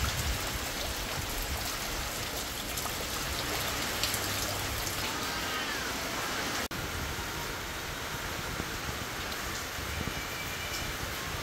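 Heavy typhoon rain pours steadily on a hut in a dense, continuous hiss of drops striking the roof and surfaces, with no voices and one brief sharp tick midway.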